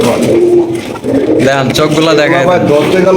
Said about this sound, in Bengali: রয়েছে একজন হাই কোয়ালিটির রেসার কবুতর